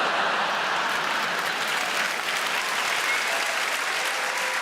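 Dense, steady applause from a large theatre audience at a live stand-up comedy show at the Apollo, loud and continuous with no breaks or voices over it.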